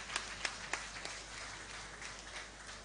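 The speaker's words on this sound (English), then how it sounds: "Shall we all give another round of applause to the National President" Applause from diners at an Eko Boys High School founders day dinner, a scattered patter of claps with a few sharper hand strikes early on, fairly faint and steady for a few seconds.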